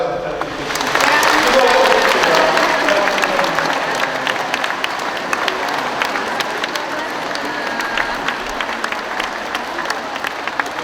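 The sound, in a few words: audience applause at a seminar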